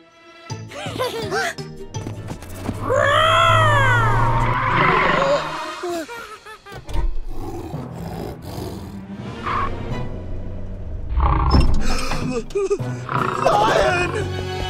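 A cartoon lion's roar, actually a character voicing a lion roar, sounds loud and drawn out in an animated kids' scene with a magic pet at an animal sanctuary. Bright music and other voices play around it.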